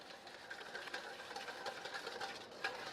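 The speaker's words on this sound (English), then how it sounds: "And you're just going to whisk that up." Salsa dressing with kosher salt being whisked in a bowl, a steady brisk scraping and clicking that runs continuously at a moderate level for about three seconds, with no talk.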